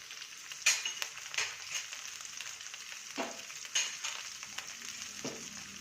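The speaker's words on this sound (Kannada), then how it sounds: "ಈಗ ಎಣ್ಣೆ ಒಳಗೆ ಸ್ವಲ್ಪ ಫ್ರೈ" Capsicum and cauliflower fry in oil, a steady close sizzle broken by repeated scraping stirs and occasional sharper spatters, with no one talking.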